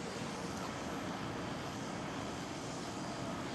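A KLM Cityhopper Embraer E190 jet at Amsterdam Schiphol airport, a broad steady engine roar that stays loud and unbroken throughout, with faint traffic-like rumble beneath and no talking.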